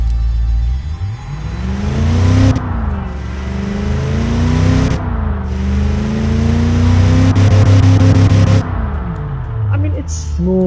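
A replica 1980s Ford Windsor 302ci V8 in the Automation game revs loudly over and over, each run climbing in pitch and then cutting off abruptly, with short pauses between pulls.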